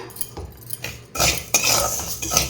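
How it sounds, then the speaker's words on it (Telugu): A spoon scrapes and rattles against a pan as rice is dry-roasted with cumin and carom seeds for homemade baby cereal. The metallic clinks come close and loud in short bursts, and no one speaks. "ఇలాగ రైస్కి వేపేటప్పుడు ఒక స్పూన్ జీలకర్ర, ఒక స్పూన్ వామ్ అయితే వేసేద్దామా"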